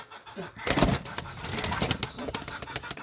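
Pakistani pigeons, a male and a female in a loft, cooing and shuffling nearby, with soft wing flutters and scattered clicks over a low background hum.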